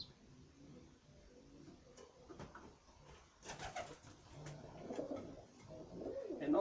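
Tame racing pigeons coo softly nearby, repeated low throaty coos with some wing rustles and light scuffling, growing slightly louder toward the end.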